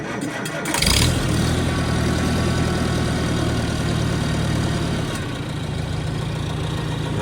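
A 1953 Farmall Super C tractor in neutral cranks and catches about a second in, then settles into a loud, steady idle close by. The engine runs alone with no voices.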